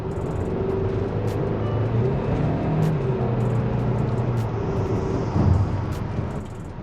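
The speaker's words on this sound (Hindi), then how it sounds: "वो फिर अगर आप कांस्टेंट उस टाइप से रखेंगे तो गाड़ी भागना शुरू कर देती है, लेकिन इंजन नॉइज़ बढ़ जाएगा।" A 2025 Kia Carens Clavis engine drones steadily from inside the cabin under hard acceleration, a continuous moderate rumble with a slight swell partway through and no talking.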